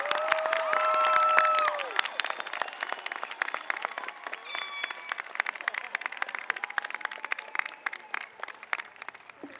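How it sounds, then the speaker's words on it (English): A graduation crowd applauds the class of 2022 with dense clapping and cheering that swells early, then thins into scattered claps with a few whoops over nearly ten seconds. "Let's have a round of applause to recognize the class of"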